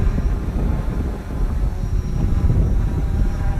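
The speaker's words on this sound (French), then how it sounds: "le drone revient à son point de décollage" A small camera drone, a DJI Mavic Mini or FIMI X8 SE, flying back toward its takeoff point, heard as a steady whirring propeller buzz mixed with outdoor wind rumble, fairly loud and continuous.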